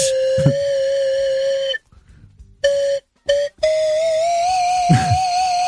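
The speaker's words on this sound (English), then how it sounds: "Taps on a slide whistle." Someone plays the bugle call Taps on a slide whistle, sustained reedy notes held and gliding slightly in pitch, broken by short silent pauses between phrases, loud and alone with no talking.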